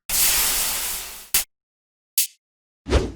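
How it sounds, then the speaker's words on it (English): Fizzing hiss of an overheating redstone torch from Minecraft, a long broadband burst of about a second and a half followed by three short separate fizzes, close and loud with no talking. "For it, let's use a redstone torch overheating,"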